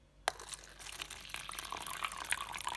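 Water splashes and trickles steadily as it is poured to refill a tarantula's water dish, starting with a sharp onset and continuing close up for a few seconds.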